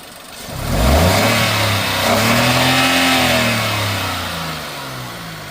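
A Datsun Go Plus seven-seater car engine is revved with the accelerator, rising from idle into a loud, close, sustained roar that eases back down.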